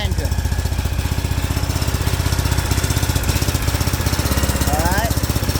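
A Briggs & Stratton double overhead cam twin engine running close by with a rapid, steady pulsing throb, likely suffering heavy blow-by and a suspected broken valve.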